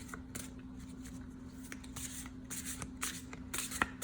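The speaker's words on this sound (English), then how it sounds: "I don't usually shuffle like this." A deck of tarot cards is shuffled by hand, giving soft riffling flutters and light slaps in irregular bursts over a low steady hum, close and quiet.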